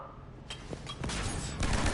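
Mass Effect gunfire bursts out in repeated cracking volleys that build in loudness over two seconds, close and dense, with no talk over it.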